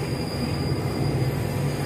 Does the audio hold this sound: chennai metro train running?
yes